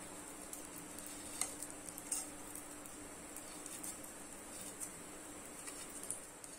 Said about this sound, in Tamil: இப்போ பட்டர் நல்லா மெல்ட் ஆயிடுச்சு, நம்ம ஜீரகம் போட்டுக்கலாம்.